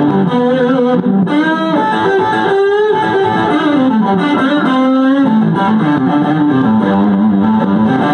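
Franklin electric guitar with its pickups split into single-coil strat mode, played through effects with distortion and chorus, ringing out as a loud, continuous run of sustained chords and melodic lines with no talking.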